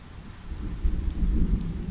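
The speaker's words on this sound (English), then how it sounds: "Rain is rejuvenating, and this rain tonight has given me the rest I needed." Rain falling steadily at night with a low rolling rumble of thunder building midway, close and full, no voices.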